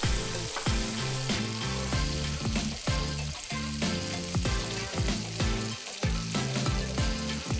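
Beer-battered prawns fry in hot oil with a continuous bubbling sizzle that runs under steady background music.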